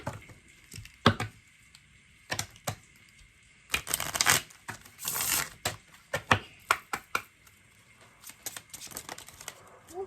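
Tarot cards are shuffled and handled in sharp, close flicks and snaps, some quick clusters and a couple of longer riffling bursts spread over about ten seconds, with no talk.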